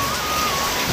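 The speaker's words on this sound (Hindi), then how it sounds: "लगातार बारिश गिर रहा है" Steady, continuous rainfall forms a dense, even hiss throughout, with no pauses and no voices.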